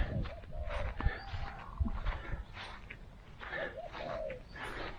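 Birds coo softly in short repeated calls, close by, mixed with rustling and scattered scuffling noises, while pecking at scattered rice in rural Thailand.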